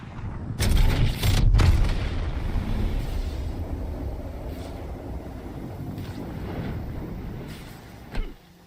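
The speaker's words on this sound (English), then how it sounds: "I'm spotted. Taking fire." Gunfire in a video game, a burst of loud booming shots early on, then fainter scattered pops and rumble trailing off, with a sharp report near the end.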